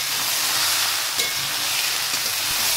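Mixed winter vegetables fry in a pan over a steady flame, giving a continuous bright sizzle and hiss with a couple of faint stirring clicks.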